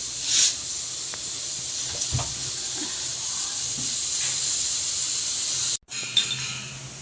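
Coriander seeds sizzle in hot oil with a steady, close hiss that runs throughout, briefly cutting out near the end before resuming.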